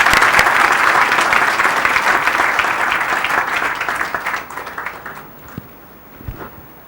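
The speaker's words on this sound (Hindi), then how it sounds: "जोर से ताली बजाओ" A loud burst of audience clapping at a devotional gathering, dense and sustained for several seconds before thinning out and fading to a few scattered claps.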